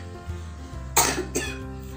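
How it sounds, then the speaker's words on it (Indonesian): A single harsh cough from a person, close and loud, with a second smaller cough burst just after, over a quiet background. "batuk lagi"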